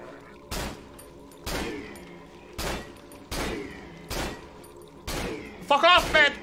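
Gunshots ring out in the horror game Cry of Fear, six sharp loud blasts spaced about a second apart, each with a short decaying tail, ending in a quicker double shot over ambient game sounds.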